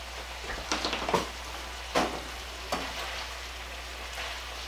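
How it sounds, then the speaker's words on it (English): Vegetables sautéing in a pot for stuffed pepper soup, a low steady sizzle with a few soft stirring scrapes, quiet and close with no talking. "I'll let these saute down for just a little bit"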